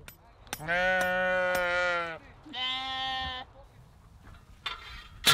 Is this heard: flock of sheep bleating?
yes